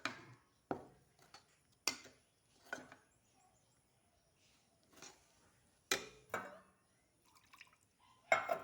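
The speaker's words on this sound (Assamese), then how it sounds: "মই অকণমান পানী মিক্স কৰি দি আছোঁ।" Water is stirred into pitha batter made with rice flour and drumstick leaves, giving sparse wet clicks and splashy taps from a bowl, separated by quiet gaps.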